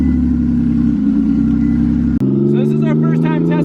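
A twin-turbo Nissan 370Z engine drones steadily up close, then a sharp click and the idle shifts to a new, slightly higher steady tone, with a voice talking over it.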